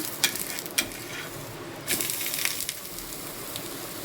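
Quiet sizzling of dhapate flatbread frying in a hot pan with occasional scraping and tapping of a utensil, steady and close, no voices.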